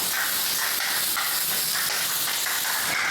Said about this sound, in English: so I spray the same product I use on my tools to make them slippery